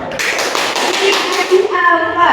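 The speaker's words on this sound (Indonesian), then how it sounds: "Tepuk tangan dulu." A primary school class claps hands together in a classroom, a quick run of rhythmic, patterned claps close and loud, followed by children's voices chanting in unison near the end.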